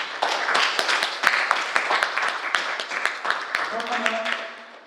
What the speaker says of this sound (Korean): 해당 개정안에 동의하시는 의원님들께서는 박수를 쳐주시기 바랍니다.